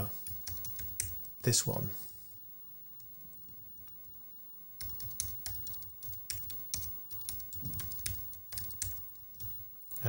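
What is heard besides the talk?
typing user details on a computer keyboard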